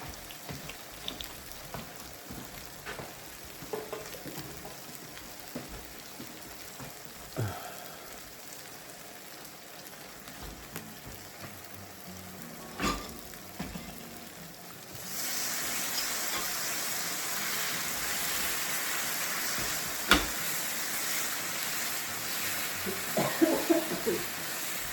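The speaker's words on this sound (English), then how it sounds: "I'm gonna let that just kind of simmer for a minute." Sloppy Joe meat mixture simmering in a pan, a steady soft bubbling and sizzle that swells louder in the last stretch, with a few faint clinks and brief bits of background voice.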